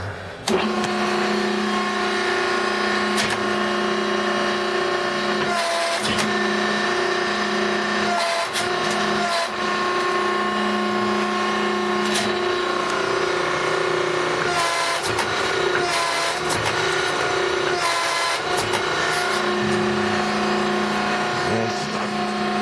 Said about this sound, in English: It's 42 ton hydraulic press.